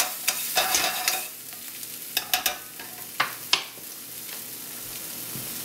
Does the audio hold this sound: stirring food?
yes